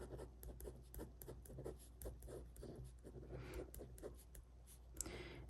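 Pen writing in a journal, soft close scratching strokes in a steady rhythm over a low hum, with a slightly louder tap near the end.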